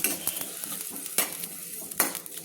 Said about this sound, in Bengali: 2টো গোটা শুকনো লঙ্কা আমি কেটে নিয়েছি। দিয়ে আমি হালকাভাবে আমি ভেজে নেব।